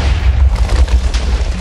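Cannon fire in a Minecraft WarGear tank battle: a steady barrage of heavy booms and explosions rumbling loud and close, repeated thumps blending into a continuous roar without any talk.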